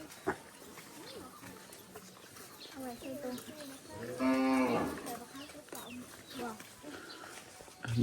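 Cattle and buffalo lowing in rice fields at dusk, a single drawn-out moo rising clearly midway among fainter distant calls, with outdoor ambience and some people talking nearby.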